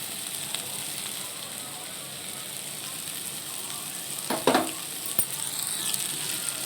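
Spices and turmeric are sautéed in a pan for masoor dal with banana flower, a steady close sizzle with a burst of spatula scraping and clatter partway through.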